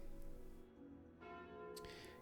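The Calling Bell relic in the video game Slay the Spire rings out as a deep, sustained bell tone with a brighter second strike, fairly faint and with no talking.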